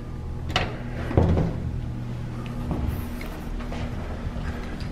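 A door in a large office building being opened and handled, with a sharp clack and latch rattle followed by lighter knocks and a faint hum, alone without talk.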